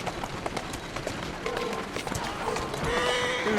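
A horse in Assassin's Creed Syndicate whinnies over the rhythmic clip-clop of hooves at a run, fairly close and moderately loud.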